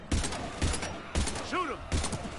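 Gunfire in the Mass Effect 3 video game fires in about four sharp, evenly spaced bursts, loud and close, with a short alien screech between shots.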